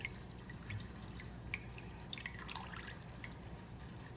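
Water drips and trickles back into a bowl as soaked raw Irish sea moss is squeezed out by hand, faint and close with a few brighter splashes.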